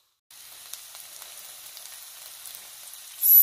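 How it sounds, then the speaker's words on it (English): Onions sizzle steadily in a hot pan for a chicken stir fry, a constant crackling hiss with small pops, loud and close. "gonna let the onion goes sizzling on its own and do its own thing for a while"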